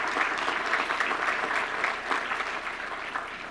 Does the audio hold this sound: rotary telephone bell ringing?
no